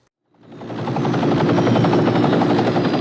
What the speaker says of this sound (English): a helicopter begins tracking them